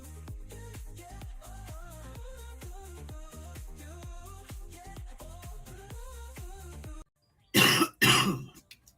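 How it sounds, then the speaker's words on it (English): A single sharp cough bursts out after steady music ends, followed by a brief throat-clearing sound, close and loud during a live tarot reading stream. "I coughed right at the wrong time"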